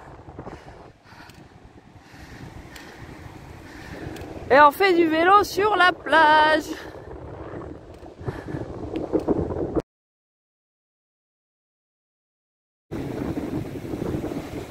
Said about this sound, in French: Encore une fois, désolé pour le vent